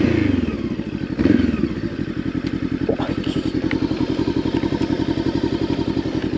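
A 2023 Voge 525 ACX motorcycle idling nearby, a loud steady rhythmic thumping exhaust pulse with a brief blip of revs early on, then settling into an even idle.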